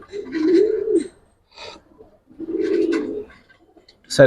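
Gribaz silver coloring pigeons coo close by in two long, low, throaty phrases separated by a pause, with a short extra call at the end.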